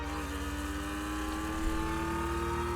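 A car engine idling steadily, a continuous low hum with a constant tone and a slight rise near the middle, close and even, no talking.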